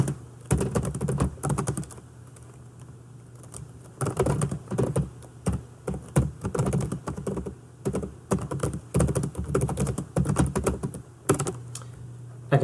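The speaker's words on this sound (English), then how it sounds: "then I can type in my feedback" Steady typing on a computer keyboard during rubric grading, with irregular bursts of keystrokes and short pauses, close and moderately loud over a faint low hum, no talk.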